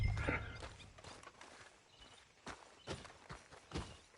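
A horse's hooves clop on the ground in Red Dead Redemption 2, a quiet, uneven series of thuds that grow more distinct toward the end, with no talk over them.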